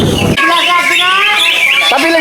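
Songbirds sing at a bird-singing contest, with bright, continuous warbling and chirping phrases carrying loudly across the clip; a brief burst of crowd noise opens it.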